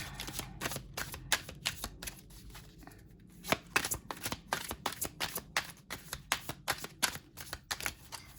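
Tarot cards are shuffled by hand in quick, crisp riffles and flicks. The bursts come in a fast irregular rhythm, with a brief pause near the middle. They are close and clear, and no voice is heard.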